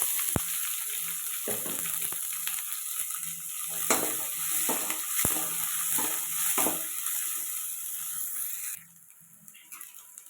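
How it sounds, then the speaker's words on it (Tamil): Small shallots frying and sizzling in a pan with a steady hiss, while a spoon stirs and scrapes in irregular strokes. The sizzle drops away abruptly near the end. "வெங்காயம் ஃப்ரை ஆனது போதும் ரொம்ப டீப்பாக ஃப்ரை பண்ண வேண்டாம்"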